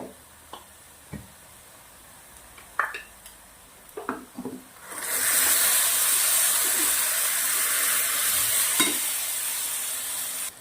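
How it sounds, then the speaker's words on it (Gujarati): Homemade gravy poured into a pan of fried, reddened onions for a paneer curry, first a few scattered stirs and clinks, then a loud, steady sizzle that fills the rest of the clip with no talking. "આપણે જે ગ્રેવી બનાવી છે એ નાખી દેવાની છે।"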